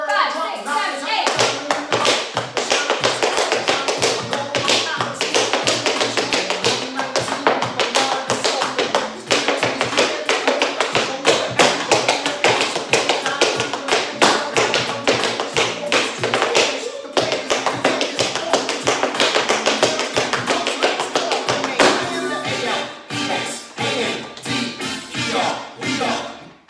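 Tap shoes beat out intermediate-to-advanced choreography to a song from Hamilton, dense rapid taps and heel thumps running continuously over the loud song, with a brief pause and lighter steps near the end.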